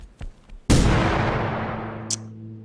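An explosion and gunfire from the video game The Final Station. A few faint pops lead into one sudden, loud blast whose rumbling tail slowly decays, and a brief sharp crack follows near the end.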